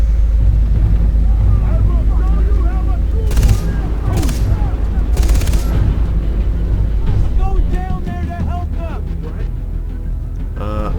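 Gunfire bursts and rapid fusillades crackle through a loud, rumbling battle in the shooter game Far Cry 3, with engine drone underneath and someone talking over the action.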